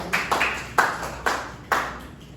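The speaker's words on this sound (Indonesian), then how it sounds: "Tepuk tangan untuk dia" A few separate hand claps in a classroom, around five distinct sharp claps at irregular intervals, close and fairly loud with no talking.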